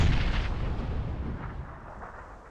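Rumbling aftermath of a grenade blast in a video game, a dense low boom already under way that slowly fades over a couple of seconds with no speech.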